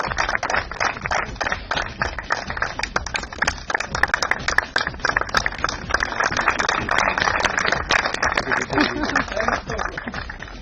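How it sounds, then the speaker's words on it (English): Crowd applause at a regional off-road motorsport event in Delhi, a dense, steady patter of many hands clapping for a finalist, with voices mixed in throughout. "but a big round of applause for him."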